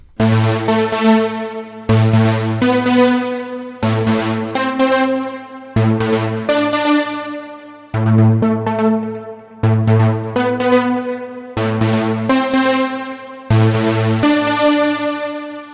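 A Diva synth lead preset called Order plays a melodic techno phrase of eight repeated bright, harmonically rich notes in a steady rhythm, each with a sharp attack and decaying tail, clean and alone.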